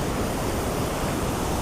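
A swollen river runs high after overnight rain near Channat Waterfall, giving a loud, dense, unbroken roar of rushing water with some wind buffeting and no voices.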